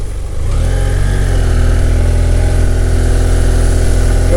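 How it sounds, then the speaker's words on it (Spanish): Motorcycle engine humming steadily under way while riding on an African road trip, a constant loud drone with layered tones; the strange rear noise is not clearly distinct from the engine. "Al cabo de un tiempo empezamos a escuchar un ruido raro en la moto."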